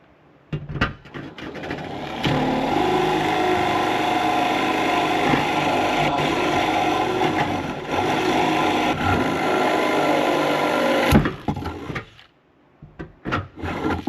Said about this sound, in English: Now I can go on the outside with that 1 1/8" bit and drill through here.